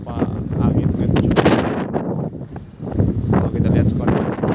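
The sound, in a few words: strong wind at Parepare harbour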